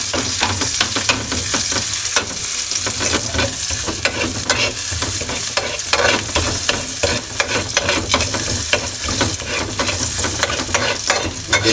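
Garlic and then onion sauté over medium heat in a pan for pininyahang baboy, a dense, loud, continuous crackling sizzle full of quick popping and scraping stir clicks for nearly twelve seconds.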